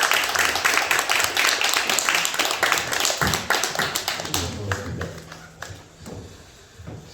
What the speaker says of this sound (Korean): 크게 박수 한번 부탁드립니다.